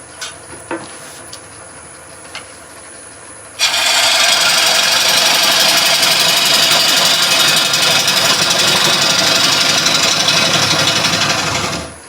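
Dust extractor in a woodturning workshop switching on abruptly after a few faint knocks, then running as a loud, steady broadband roar for about eight seconds before cutting off.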